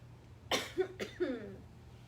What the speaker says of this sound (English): So pardon me if I have to cough.